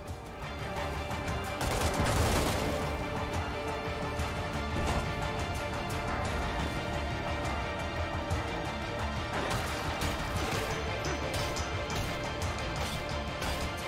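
Rapid gunfire from a weapon in the zombie survival video game State of Decay 2, a dense continuous barrage of shots with a loud burst near the start, sustained and close for the whole stretch.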